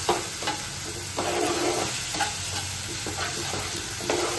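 Food frying in a pan while being stirred, a steady hiss of sizzling with repeated soft scraping strokes of the spatula at an even pace, close by and with no voices.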